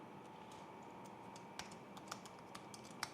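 Java code being typed on a computer keyboard: quick, light key clicks in an irregular stream, close but soft over a faint steady hum, no voices.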